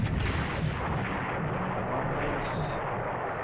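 A destroyer's 4.7-inch naval guns fire in the War in the Pacific computer game as a continuous, loud, rumbling barrage of booms that blend together. A brief spoken word sits on top.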